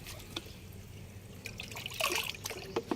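Diluted homemade liquid fertilizer, made with rice-washing water and onion and garlic peels, trickles and splashes as it is poured into water, with a soft steady dribble that swells into brighter splashes toward the end.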